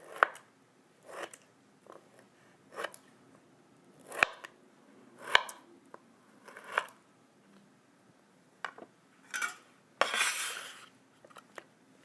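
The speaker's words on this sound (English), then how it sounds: "Now I'll cut the kiwi in half lengthwise, and then I'll slice it crosswise into half moons." Knife cutting a kiwi in half and slicing it into half moons, a series of quiet crisp chops against a board at an irregular pace, with a louder, longer cut near the end.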